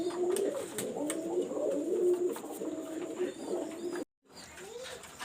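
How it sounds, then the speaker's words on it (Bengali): Pigeons coo in soft, repeated rolling calls over faint background noise, with a momentary dropout near the end before the cooing resumes. "যে কবুতরগুলো দেখাচ্ছি আপনাদের"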